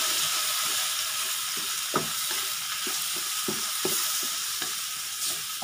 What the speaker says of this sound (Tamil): இப்போ இதை வந்து நல்லா மிக்ஸ் பண்ணிவிடுவோம்.